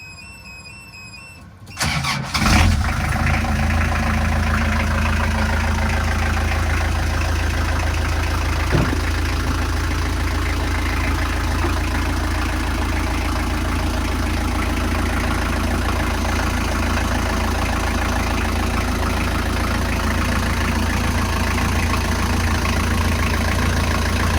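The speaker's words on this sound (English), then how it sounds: "I'm going to do a quick engine startup and run for you." A Beta 50 hybrid sailboat engine cranks and catches after a brief silence, then settles into a steady, loud, continuous low idle that runs on without talk.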